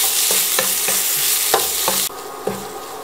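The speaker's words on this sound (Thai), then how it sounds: "ใส่หมู3ชั้นลงไป495กรัมค่ะผัดให้เข้ากันนะคะ ผัดจนหมูสุกค่ะ" Pork belly stir-fried in a pan, a loud hiss of sizzling fat with regular spatula scrapes and taps, the sizzle dropping in level near the end.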